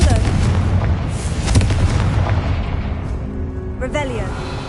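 The Confringo fire spell in Hogwarts Legacy goes off as a loud, booming blast with crackling fiery rumble, followed by more magical whooshes and a rising chime, all dense and continuous over game sound.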